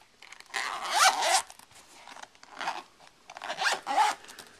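Dual zippers on an iPad case being drawn closed, two bursts of quick rasping zip strokes separated by a pause, close and fairly loud.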